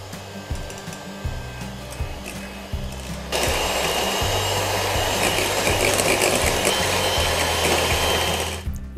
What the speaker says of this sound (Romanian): Mixez gălbenușurile cu zahărul și o să-l adaug treptat